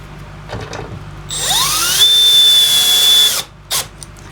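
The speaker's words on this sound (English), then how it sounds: "Now I'm going to bolt it down." A power drill drives a bolt into a wooden bench, whining up in pitch and then holding a steady high whir for about two seconds before stopping, with a brief second burst after; no one speaks.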